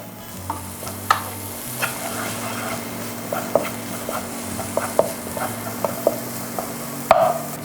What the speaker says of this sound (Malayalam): ഇനി നമ്മൾ ചോപ്പ് ചെയ്ത വെജിറ്റബിൾസ് ഇടുകയാണ് ക്യാരറ്റ് ബീൻസ് ക്യാബേജ്